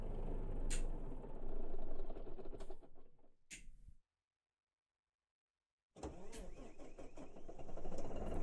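A Volvo F10 truck engine starts in Euro Truck Simulator 2: a cranking, rumbling burst, a short silent gap, then the engine catches and settles into a steady mid-pitched idle, with someone talking over parts of it.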